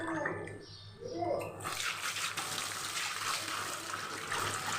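Tap water splashes over pointed gourds being washed in a kitchen, a steady close rush that starts after a short handling noise and carries on unbroken.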